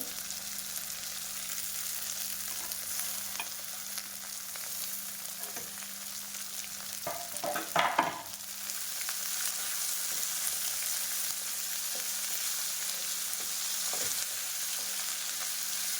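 Potatoes, tomatoes and carrots soften in oil in a pot for a soybean pulao, a low, steady sizzle throughout with a brief burst of stirring and clatter near the middle, nobody speaking.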